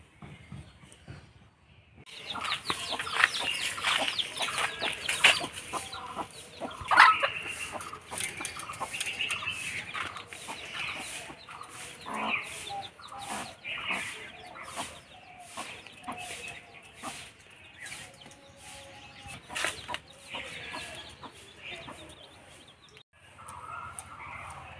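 Farm hens cluck and a rooster calls among them, with repeated close clucks and squawks that rise and fall over about twenty seconds in an otherwise quiet setting.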